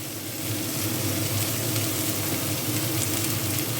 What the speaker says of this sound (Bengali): সাম্বার মশলা দিয়ে দিলাম, দিয়ে নাড়ছি, ভালো করে নাড়বো।